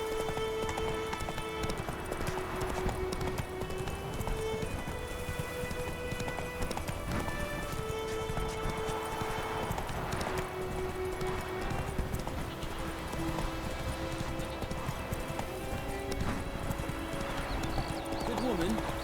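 Horse hooves clip-clop and pound at a galloping pace in The Witcher 3, with a rhythmic, steady gait heard throughout alongside ambient game sound and occasional voices.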